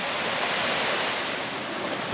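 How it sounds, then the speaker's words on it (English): Steady broadband rush of falling water from a waterfall's upper fall seen from a bridge on a hiking trail, continuous and fairly loud with no talking. "That is starting to look like a waterfall."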